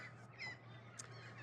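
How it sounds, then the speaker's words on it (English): Birds calling in Australian bushland on a sandstone ridge near Sydney, a few scattered distant harsh calls and chirps over a steady low background hum. "Got some beautiful birds here keeping me company."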